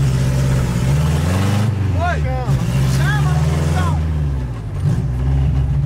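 A Chevrolet Chevette's engine runs loud and close with a steady low rumble and uneven revving, heard beneath overlapping excited voices.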